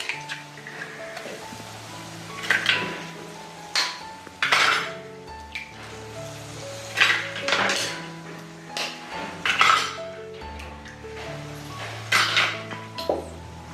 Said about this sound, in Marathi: आता मी यात अंडी टाकते